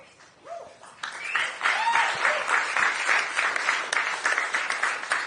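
A crowd at a political event bursts into applause after a short quiet moment, the clapping swelling quickly and holding steady and full, with a few voices faintly mixed in.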